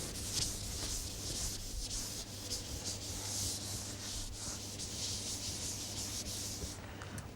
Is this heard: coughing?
no